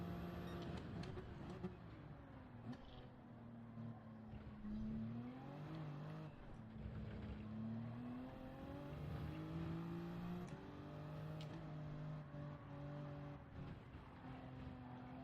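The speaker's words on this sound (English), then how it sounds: "Can you hear the game and all the tyre squeal that I'm kicking up?" Racing car engine in Gran Turismo 7 roars steadily with rising and falling revs, tyres squealing through turns, loud and continuous with no talking.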